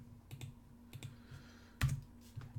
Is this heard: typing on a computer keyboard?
yes